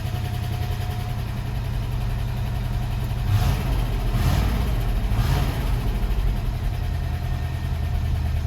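An International Scout engine idles steadily with a rough, repetitive clacking running through the low rumble, close and continuous, with a few slightly louder surges partway through.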